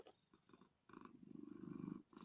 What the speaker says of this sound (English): I like the background music of the cat purring.